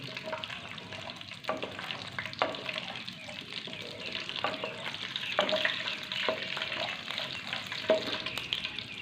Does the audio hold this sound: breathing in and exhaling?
no